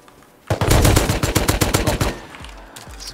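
Rapid automatic gunfire in the survival video game Rust, a loud burst of evenly spaced shots lasting about a second and a half, followed by a few scattered, fainter reports.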